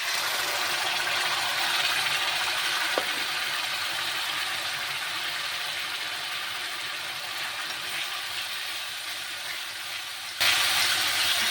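Sauce hits a hot pan of lightly fried, egg-and-chilli-marinated pieces cooked chilli-chicken style, giving a loud, steady sizzling hiss that holds throughout with a brief surge near the end.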